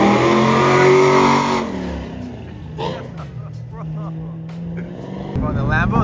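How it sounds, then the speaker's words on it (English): Loud twin turbo Lamborghini engine on Los Angeles streets, a strong steady roar that drops to a lower rumble, then rises again near the end, with people talking over it. "Bro, the Lambo is so loud."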